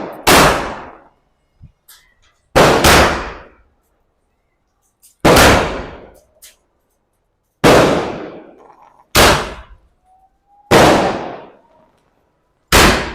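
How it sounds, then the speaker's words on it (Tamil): Diwali firecracker shots from a 30-shot cake burst one after another, six loud booming blasts spaced a couple of seconds apart, each trailing off into a crackling fizz with brief silence between. "ஸோ 30 ஷார்ட்ஸ் இப்படி தான் வெடிச்சிட்டு இருக்கு. நல்லாவே வெடிக்குது"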